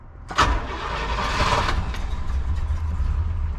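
A 1967 Pontiac Catalina engine cranks briefly and catches on its own without throttle, then settles into a steady, loud, low rumbling idle close by, with no talking.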